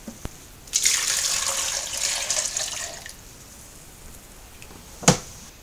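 Water from a homebrewing pot is poured into a measuring jug, a steady splashing stream lasting about two seconds, followed after a pause by a single brief clink or drip.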